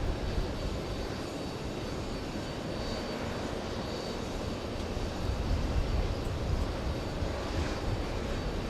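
A Delta Airbus A321 airliner passing near JFK International Airport, a steady broadband engine roar and rumble that stays loud and sustained with a slight swell midway, no voices present.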